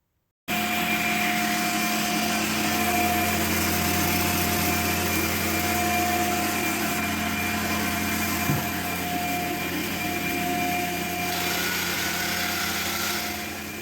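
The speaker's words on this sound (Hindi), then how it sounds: "चक्की है जो इसकी मशीन है, खैर चक्की तो नहीं है आजकल, मॉडर्न ही कोई चक्की है जो मशीन बिजली से ही चलती है।" A modern electric flour mill (chakki) grinds fresh flour, a loud continuous motor drone with a steady hum and whine that runs unbroken from start to finish, close by.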